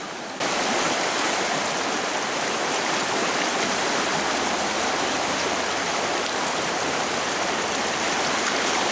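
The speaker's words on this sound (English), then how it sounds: "See this fast current right here?" Fast water of a Central Pennsylvania trout stream rushes in a dense, steady broadband roar, loud and close, with no talking.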